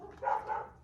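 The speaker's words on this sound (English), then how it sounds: "I don't know if you can hear my dogs barking in there" Dogs bark faintly in the background, one or two muffled woofs in quick succession, distant and brief.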